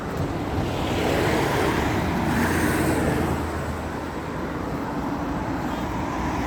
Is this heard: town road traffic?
yes